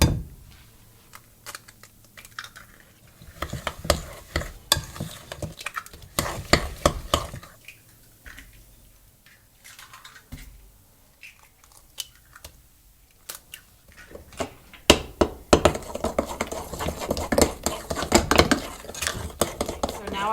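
A spoon stirs carrot cake batter of oil and sugar in a bowl, with irregular clinks and scrapes coming in bursts, busier toward the end, while a person talks at intervals.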